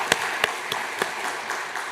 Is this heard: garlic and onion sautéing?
no